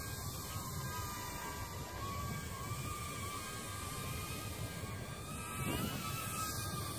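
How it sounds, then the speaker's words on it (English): A tiny whoop-style FPV drone (King Kong Tiny 7) flying outdoors, giving a steady high-pitched motor whine with shifting tones and a brief throttle surge near the end, continuous and fairly close, with no talk. "So not bad for one of these tiny Whoop style aircraft."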